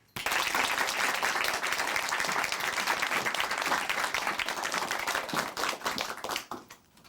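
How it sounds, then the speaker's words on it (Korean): A church audience claps steadily to welcome someone speaker at Chuncheon Hanmaeum Church, dense even applause filling the room before tapering off near the end. "춘천 한마음교회 김아영 자매님 박수로 모시겠습니다"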